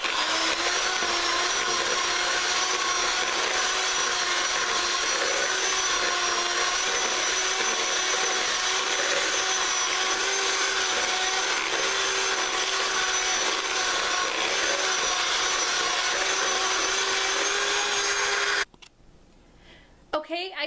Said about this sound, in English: You want to mix these until it's really smooth.